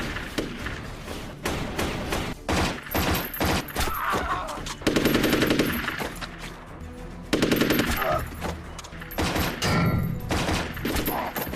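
Rapid gunfire in a shootout, with loud bursts of automatic fire and dense volleys of shots, some thumping impacts mixed in, close and dominating throughout.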